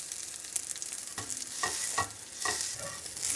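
Fennel seeds are stirred into breadcrumbs toasting in a pan, a soft dry sizzle with a few scraping stirs at a steady rhythm, quiet and close, no voices.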